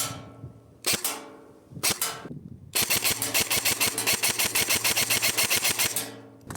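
Lonex M4 airsoft rifle firing, with two sharp single shots and then a long, fast, even string of snapping shots, close and loud.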